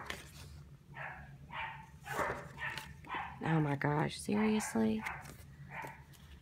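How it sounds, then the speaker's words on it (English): A dog barks in a short run of sharp, close barks, with someone speaking before and between them. "I'm sorry for the barking."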